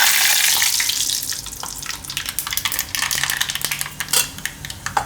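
Mustard seeds crackle and pop in hot oil in a home kitchen, a dense, continuous sputter with scattered sharp clicks and spits running through the whole stretch.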